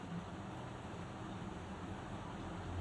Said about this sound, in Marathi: मिक्सरला बारीक पेस्ट तयार करून घेऊ